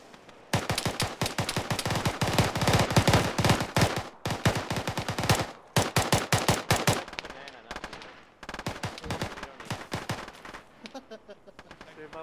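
Arma 3 gunfire in a military squad scenario: rapid automatic bursts and sustained rattling fire, loud and close, broken by short pauses, with voices heard faintly underneath.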